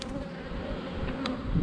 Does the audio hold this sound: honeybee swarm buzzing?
yes